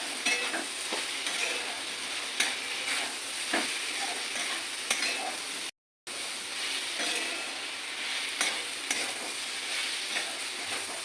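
Puti fish and eggplant frying in a pan, a steady close sizzle broken by repeated scraping and stirring strokes, with one brief dropout midway.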